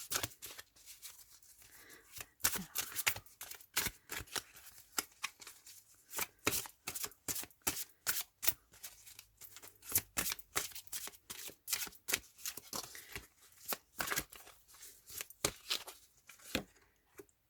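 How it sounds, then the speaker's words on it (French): Oracle cards being shuffled by hand before one is drawn, a quiet, steady run of crisp riffling slaps and flicks with no talking. "Donc je vais vous tirer une carte."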